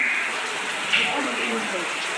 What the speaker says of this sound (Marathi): तुफान पाऊस चालू आहे.